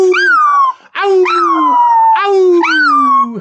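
A dog in Portugal howls along as if singing, three long wavering howls that rise and slowly fall, loud and close.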